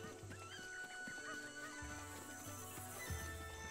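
Chicken in the video game Zelda: Breath of the Wild, giving soft repeated clucks and squawks over a quiet bed of game music and ambience.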